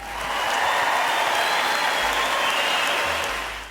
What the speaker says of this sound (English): Everybody give Tammy of eXp Realty a round of applause.